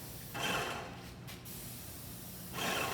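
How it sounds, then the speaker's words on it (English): A spray gun hisses in two short bursts during COVID-19 decontamination of a vehicle interior, the trigger pulled briefly, close and moderately loud, with a quiet pause between. "it's a spray gun, so if you don't need to spray,"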